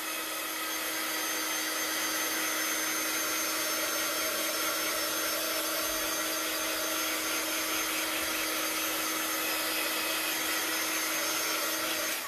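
A hair dryer blows steadily on a black ink line drawn for a luggage-label craft workshop, a continuous close whooshing hum with a faint steady whine that runs unbroken the whole time, with no talking.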